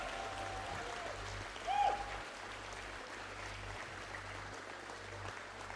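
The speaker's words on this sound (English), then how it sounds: "You can applaud them too." Audience applause at an esports grand final for the osu! tournament COE 2026, a steady mid-distance clapping wash through the whole stretch, swelling briefly with a cheer near the middle.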